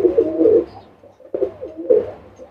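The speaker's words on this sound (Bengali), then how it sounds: "এখানে আরো এক জোড়া কবুতর আছে" Pakistani high-flying pigeons coo close by in a series of soft, low, throaty calls with short pauses between them, and no talking.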